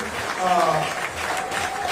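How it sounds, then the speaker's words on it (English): A criminal justice awards ceremony audience claps for an honoree, brief continuous applause under a voice that carries over it. "Give her a big round of applause."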